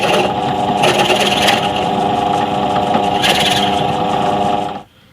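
A power drill widening an 8mm hole to 10mm during a bass guitar build, a loud continuous high whine with slight surges in intensity, stopping abruptly near the end.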